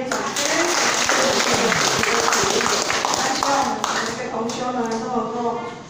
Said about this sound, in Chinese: 我们再一次热烈掌声